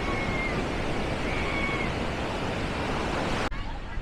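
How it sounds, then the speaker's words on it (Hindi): Ocean waves roar at Puri beach as a constant, loud wash of surf noise with no break, cut off sharply near the end. "ये जो समंदर की घो घो घो घो आवाज़ आ रही है ना, ये पूरी पूरी पूरी टाउन में गूंजती है इसकी आवाज़"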